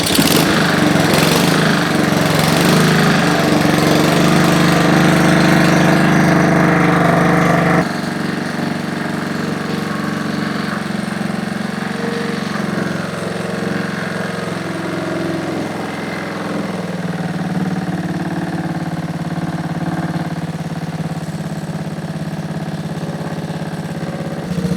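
Honda HRR216 walk-behind lawnmower engine idling steadily after a carburetor adjustment, its auto choke open at operating temperature; a loud, close, continuous drone that drops slightly in level partway through and keeps running evenly.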